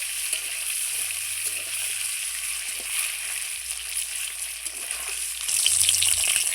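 Steady frying sizzle crackles from duck eggs in a hot pan, loud and continuous, growing brighter and more intense near the end.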